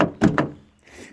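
The driver's door of a Ford Mondeo ST, which has a sticking issue, gives a few quick close thunks and knocks in succession, then a fainter rattle as it settles.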